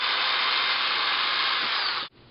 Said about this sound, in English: I'm going to drill a hole right here in the top of the cap